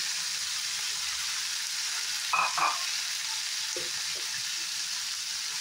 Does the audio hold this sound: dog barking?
no